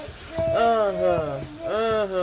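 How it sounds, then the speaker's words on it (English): A baby babbles and coos in short, rising and falling vocal bursts, fairly close, with quiet kitchen background. "My baby is making a bit of noise."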